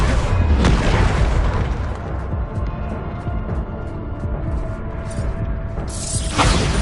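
A Bombarda spell explosion from Hogwarts Legacy, heard as a loud, dense boom that opens the clip, followed by a rumbling, crackling blast and a second burst near the end. No voice is heard.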